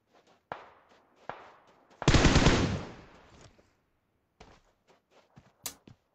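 Gunfire in the battle game PUBG: a couple of sharp single shots, then a dense loud burst lasting over a second, followed by scattered fainter shots and clicks, with no one talking.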